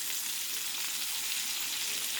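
Fish frying in hot oil in a pan while the pieces are turned over, a steady, dense sizzle held close and even throughout with no talking.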